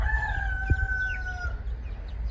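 Four-week-old meat chickens being raised on grass cluck and call near the microphone, with a drawn-out tonal call and a few short clucks over a low background rumble.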